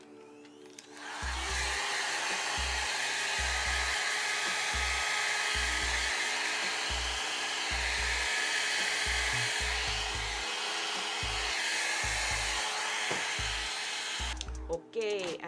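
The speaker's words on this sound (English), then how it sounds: "then we're gonna use the dryer to dry her off." Hair dryer blowing over a freshly sprayed lace wig, a loud continuous whoosh running nearly the whole length, with soft intermittent low thumps underneath.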